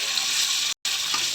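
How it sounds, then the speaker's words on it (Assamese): Chicken marinated with gram flour frying in oil: a close, steady sizzle with a faint stirring texture in a short burst. "এতিয়া মই এইখিনি ভাজি ল'ম অলপকৈ।"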